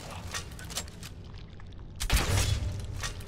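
Explosion in Skyrim's Dragonborn DLC, a low thump and rumbling blast rising midway through a busy, noisy game soundscape, fairly loud and close.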